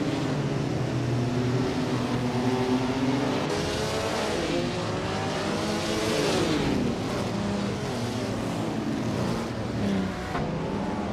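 Engines of race cars, including a 1956 Jaguar D-Type, roar continuously through a racing game, with revs rising and falling as cars accelerate and shift, loud and steady without any talk.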